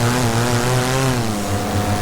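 A Parajet paramotor engine drones steadily in flight, with a loud, close propeller buzz and a slightly wavering pitch, with no talking over it.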